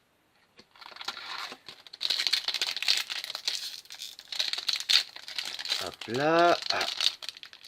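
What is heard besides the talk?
Yu-Gi-Oh! booster pack wrapper being torn open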